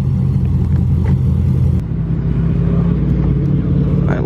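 A boosted Corvette C6 rumbles loudly nearby with a deep, steady engine drone that eases slightly in tone partway through, surrounded by outdoor car-event noise.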